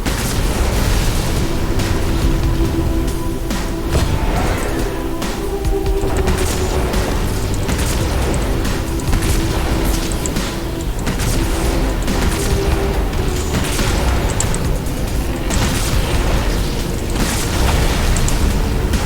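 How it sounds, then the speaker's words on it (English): A Halo 2 Wraith tank fires rapid mortar shots: loud booms and explosions roll almost without a break, dense and close, with no voices. "This is like one of the fastest firing Wraiths."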